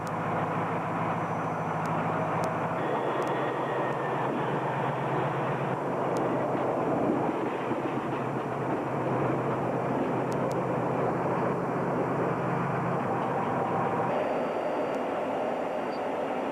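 A continuous, loud rumbling roar of a C-141B Starlifter military transport aircraft's engines, steady and droning throughout with a broad noisy hum.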